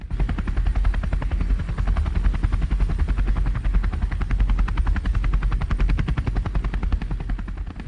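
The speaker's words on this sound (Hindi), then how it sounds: "हेलीकॉप्टर आ गया" A helicopter's rotor thuds in a fast, steady chop over a heavy engine roar, loud and close throughout, with no letup.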